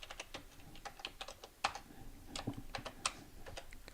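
Quick, irregular taps of a computer keyboard as a password is typed, close and fairly quiet, with a few sharper key strikes and no talk.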